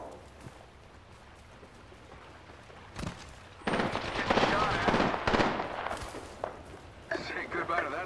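Bursts of gunfire in the battle-royale shooter Apex Legends, a sharp shot near the three-second mark followed by dense, loud volleys, with brief quieter gaps and a renewed flurry toward the end.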